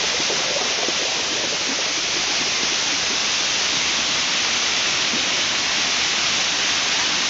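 A tall waterfall roars in a dense, unbroken wash of white noise, loud and close, with no voices over it.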